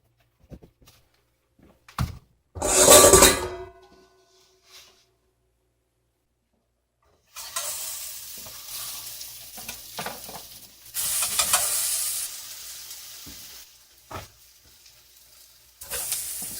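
Onion strips sizzle and hiss in a hot pan in uneven bursts, with a loud clattering stir early on and softer stirring scrapes later, close by and without talk.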